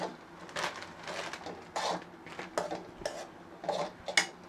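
Stirring puffed rice into egg podimas in a pan gives repeated scraping and clinking of a metal spoon against the pan, coming in short uneven bursts, close by, with no talk.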